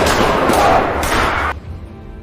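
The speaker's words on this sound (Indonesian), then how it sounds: "Bapak Kapolsek tanpa ragu menembak Axel hingga tewas di tempat" A police chief fires at a man, three sharp gunshot blasts in quick succession, loud and close with reverberant tails, followed by a sudden drop to quiet.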